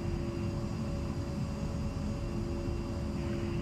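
Simulated A-10C jet engines roar steadily during takeoff in DCS World, a loud, continuous broadband rumble with a faint steady whine, running without pause and with no talk.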